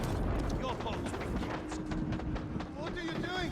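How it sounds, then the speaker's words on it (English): A dense, continuous crackle of firecrackers going off in the video game Ghost of Tsushima, loud and rapid-fire, with game sounds mixed in. "Firecrackers."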